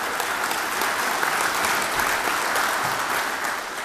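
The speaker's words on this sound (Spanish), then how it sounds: "con un cariñoso aplauso para ustedes porque se lo merecen" Ceremony audience breaking into warm, sustained applause, a loud, dense wash of many hands clapping steadily from start to finish with a faint crowd murmur beneath.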